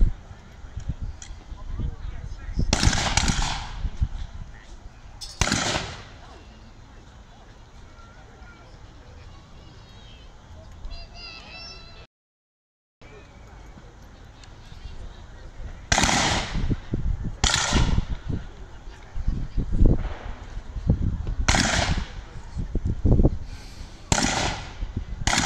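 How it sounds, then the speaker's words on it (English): Blank rounds from Zulu War era rifles fired at a reenactment display, sharp bursts scattered irregularly across outdoor crowd noise, several loud cracks clustered near the end with faint background chatter. "So there's a few more rounds going down than my commentary is used to."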